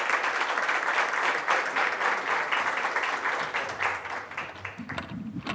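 An audience at a banking conference on socio-environmental and climate risk greets a speaker with warm applause, steady clapping that thins and fades near the end as a voice begins.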